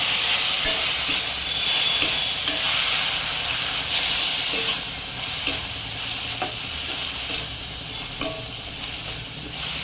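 Spinach frying in a pan for a palakura chicken curry: continuous close sizzle and hiss with occasional stirring clicks and scrapes, no voices.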